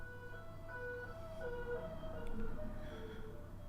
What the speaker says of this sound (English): That just went by, some sort of emergency vehicle